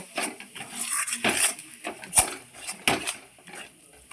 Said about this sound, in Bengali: এই গুঁড়ো মশলাটা এখন আমি এর উপরে ভালো করে ছিটিয়ে দেব দিয়ে আবারও আমি ভালো করে মিশিয়ে নেব